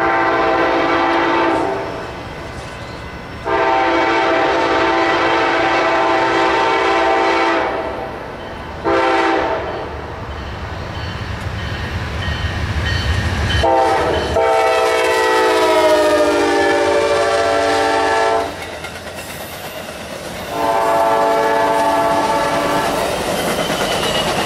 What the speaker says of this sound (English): Then Amtrak coming around the corner behind them down Main Track 1.